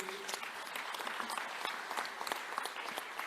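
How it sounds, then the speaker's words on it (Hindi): A standing audience at a Save the Soil event in Pune gives a dense, steady burst of applause, many hands clapping at once in a continuous wash, moderately loud and even throughout. "let's have a standing ovation for our everybody, all our dignitaries on the stage, for Sadhguru"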